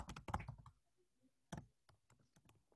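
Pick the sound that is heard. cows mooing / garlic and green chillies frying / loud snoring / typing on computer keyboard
typing on computer keyboard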